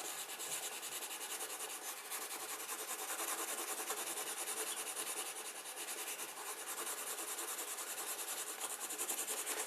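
A polished brass rod is rubbed over carved lines in wood for Sami-style kolrosing, producing a faint, continuous dry rubbing hiss that stays steady throughout, close up with no talk.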